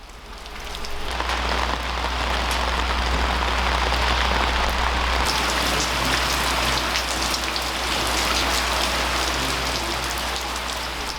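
Rain pours onto and drips from the roof of a traditional Korean house in Gyeongsangbuk-do. The patter is dense and continuous and fairly close, with no voices.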